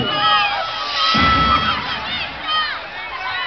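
A lively crowd cheering and shouting loudly and continuously, with high excited voices and whoops rising and falling throughout.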